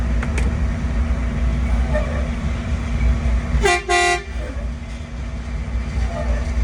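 Two short, loud blasts of a vehicle air horn cut through a steady low engine hum, close by.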